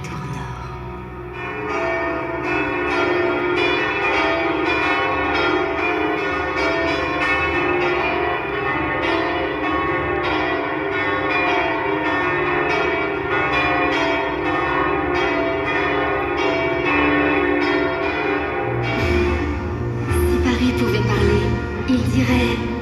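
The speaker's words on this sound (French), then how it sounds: "à l'appel des cloches de la tour nord" The north tower bells of Notre-Dame cathedral ring continuously in a dense, layered peal, loud and reverberant, with overlapping tones sustained throughout and a heavier clang near the end.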